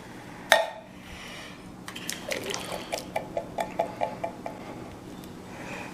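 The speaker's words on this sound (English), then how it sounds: "we're going to add our black beans" Drained black beans dropped into a crock pot for chili land with a sharp clunk, followed by a run of soft, rhythmic wet plops and spoon taps against the pot.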